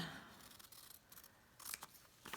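Scissors snip through a single layer of fabric while a pincushion is cut out, giving a few close, crisp bursts of cutting separated by short pauses, with no voices.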